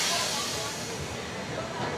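Continuous airy hiss and rumble from inside the moving 12101 Jnaneswari Express passenger train travelling from Mumbai LTT toward Kolkata Shalimar, steady and even for the whole stretch.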